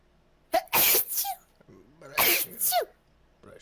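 Two loud, close sneezes a little over a second apart, each a sharp explosive burst with a short inhaled lead-in, followed by a faint start of another sound at the end.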